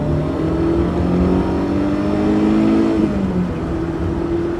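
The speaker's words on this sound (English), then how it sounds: "Little second gear pull here." BMW E30 M3 pulling hard in second gear, a loud, steady engine note rising in pitch over a few seconds, with a brief dip near the end, heard close from inside the car.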